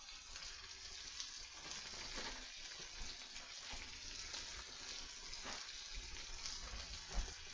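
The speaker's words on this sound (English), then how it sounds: "Now I'm going to put the carrots." Carrots sizzling in a frying pan for a chicken stir fry, a steady, hissing fry with faint stirring clinks, close and continuous, with no voices.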